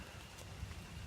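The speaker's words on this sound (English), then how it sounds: "the wind was blowing rain in a little bit" Rain falls steadily during a very wet camping trip, with wind blowing it in; a faint, even hiss of drops runs throughout, with no voices.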